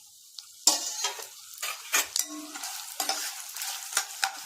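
Dried red chillies, chana dal, urad dal and coriander seeds dry-roast in a pan for pirandai thokku, with a spoon scraping and stirring in short, close, irregular strokes over a faint sizzle.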